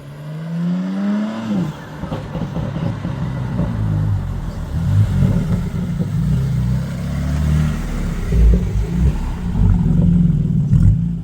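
Car engine revving hard with loud exhaust pops and crackles, a rising rev at the start followed by sustained, rumbling blips and bangs, close by at a street car meet in Brussels.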